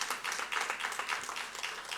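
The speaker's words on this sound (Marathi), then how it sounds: "ज्ञानेश चांदेकरजी यांच्यासाठी सुद्धा जोरदार टाळ्या होऊ द्यात" Audience members at the Bizz Masters Award Night 2023 business awards ceremony clap, a soft, distant patter of steady applause lasting a couple of seconds.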